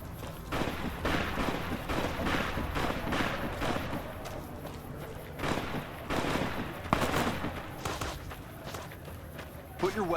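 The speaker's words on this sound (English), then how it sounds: "Stop shooting. Put the guns down." Gunfire in the video game Fallout: New Vegas: repeated shots and bursts crackle through most of the stretch at moderate level, mixed with footsteps and game noise.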